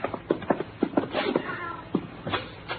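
A black cat meowing in an old radio drama, a string of short close meows and cries at irregular intervals with faint shuffling, no talking over it.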